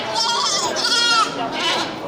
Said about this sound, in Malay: Anak kambing kacang ya,